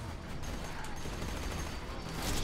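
Rapid shotgun gunfire in the video game Borderlands 2, a slag shotgun firing in a dense, continuous barrage of blasts that stays loud and busy throughout without a break.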